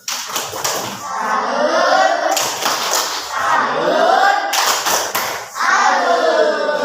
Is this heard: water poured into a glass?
no